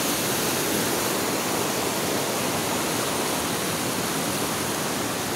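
Loud, dense rushing water roars continuously and evenly, like a strong river or waterfall nearby, with no other sounds.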